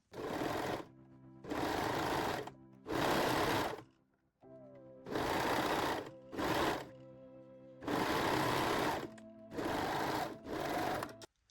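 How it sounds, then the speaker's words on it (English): A sewing machine stitches a seam on high-waist panties in several close, loud bursts of rapid mechanical whirring, separated by short pauses. "Okay, and sew this seam"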